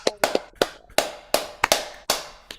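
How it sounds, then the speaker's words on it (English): Scattered hand claps from a small audience after a song, a handful of sharp separate claps at an irregular pace rather than full applause, close and fairly quiet. "Now you can clap and loud, please, roar uproariously."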